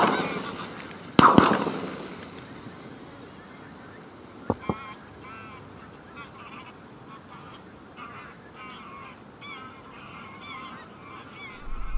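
Greylag geese calling over a goose decoying spread, faint honks scattered through the stretch after a loud early bang, with a voice speaking at times.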